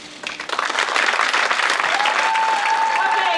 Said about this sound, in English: if everybody will limit their applause